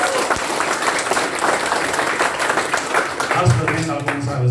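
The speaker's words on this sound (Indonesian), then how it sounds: "Tepuk tangan buat PT BES." An audience at a business seminar gives a dense, sustained round of applause, many hands clapping at once in a steady wash, with voices audible underneath.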